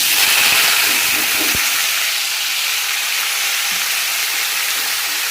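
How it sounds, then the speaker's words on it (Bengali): Cut potatoes fry in hot oil, a loud, close, continuous sizzle with a brief clatter near the start and no talk. "আলু ভাজার জন্য আলুও এই যে কাটা রেডি, আর তেলও গরম হয়ে গেছে"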